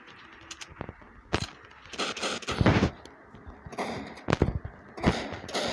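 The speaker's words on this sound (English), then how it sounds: "They gave me a shotgun that reloads in 2 seconds. And kills immediately with a headshot." Shotgun blasts fired at zombies in a video game, several loud booming shots spaced irregularly with clattering reload and impact noises between them, close and punchy, with no voices over them.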